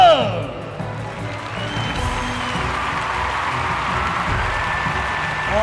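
Crowd applause and cheering fill a Uyghur wrestling match arena as a steady, broad wash of noise, with a voice talking over it throughout.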